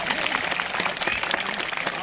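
An audience at a school farewell ceremony claps to welcome a guest, a busy spread of clapping under a voice speaking over it.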